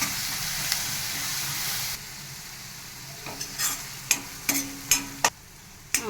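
Potato and green chilli fry being stirred in a hot pan, a steady sizzle and hiss of frying with a run of sharp spoon scrapes and clacks against the pan toward the end.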